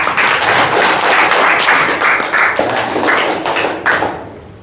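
Classroom applause from students, loud uneven clapping with some taps and thumps, sustained for about four seconds before fading out quickly.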